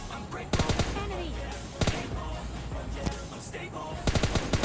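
Gunfire in the video game PUBG Lite, with several quick bursts of rapid automatic shots over a steady background hum, loud and sharp, with a voice talking under it.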